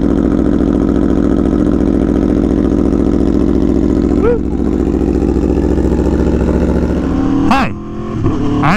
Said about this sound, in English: First cold startup of 2022.